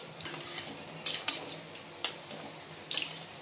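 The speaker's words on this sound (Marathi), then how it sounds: "आता मी गोल्डन ब्राउन करून घेते छान मध्यम गॅसवर ठेवलं मी आपले मंचुरियन" Leftover-rice manchurian balls frying golden brown in oil over a medium flame, a soft continuous sizzle with occasional light clinks and scrapes of a utensil against the pan, close but quiet.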